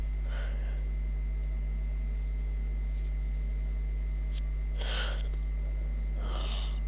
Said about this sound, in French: J'ai un petit rhume, donc désolé si je renifle.